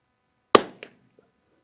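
A single sharp .22LR rifle shot fired with Eley Team ammunition, loud and close, followed by a brief echo or distant impact and a faint later tick, otherwise silent.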